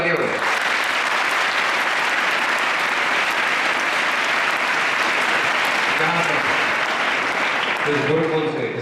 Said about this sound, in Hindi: इसके लिए जोरदार तालियां बजाएं।